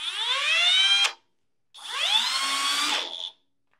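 A Hercules cordless hammer drill whirs in two bursts, each about a second and a half, rising in pitch as it spins up to drive a 2.5-inch deck screw, then stopping abruptly.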